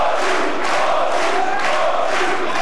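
Boxing arena crowd roaring in support of fighter Leonard Dorin against Raoul Balbi, a loud, dense, continuous wall of cheering with swelling surges.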